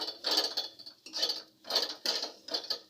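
Crushed fish roe is stirred and fried in a pan for a bitter gourd roe posto, with a spatula scraping in steady, evenly spaced strokes, crisp and close.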